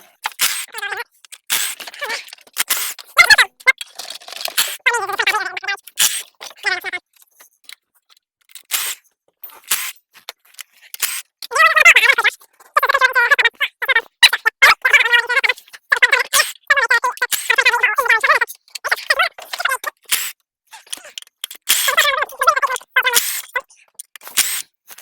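A ratchet removes the 8mm sump bolts on a Ford Fiesta Ecoboost in quick clicking bursts, sharp and close, broken by short pauses as the tool moves from bolt to bolt.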